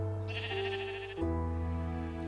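Blocky game sheep in Minecraft let out one long wavering bleat followed by a second, steadier bleat, both close and clear with no talking.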